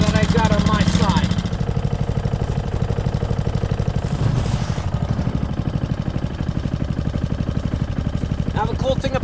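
A Honda outboard engine on a kayak runs steadily, a close, loud, even putter with fast regular firing pulses; a voice speaks over the engine at the start and again near the end.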